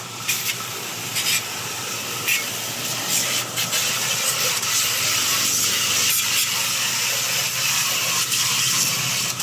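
A pressure washer sprays water at a car wash vending machine, giving a loud, continuous hiss with short bursts and changes in intensity as the spray moves.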